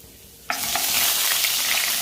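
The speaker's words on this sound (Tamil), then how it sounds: "அந்த கடுகு வெடிக்கும் போதே காஞ்ச மிளகா, அப்புறம் உளுத்தம்பருப்பு. உளுத்தம்பருப்பு கொஞ்சம், இது ரெண்டும் கொஞ்சம் நல்லா கொஞ்சம் ரோஸ்ட் ஆகட்டும்." Dried red chillies and urad dal hit hot oil that already holds popping mustard seeds, bursting into a loud, sudden sizzle that stays steady and bright with small crackles.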